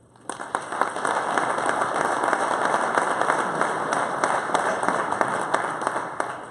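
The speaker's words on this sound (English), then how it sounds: "Can we have a nice round of applause and thanks for our candidates that have been here today?" An audience at a GOP candidates' forum on transportation breaks into sustained applause for the candidates, a dense, even wash of many hands clapping at moderate volume across the whole stretch, without speech.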